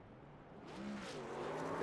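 A race car in a racing video game revs up for a victory burnout, engine tone swelling and climbing louder toward the end while a commentator talks over it.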